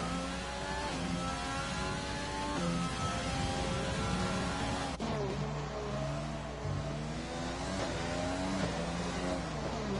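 Formula 1 race cars lapping the Monte Carlo street circuit in a racing game, engines screaming steadily with rising and falling revs and gear changes, loud and continuous, no talk.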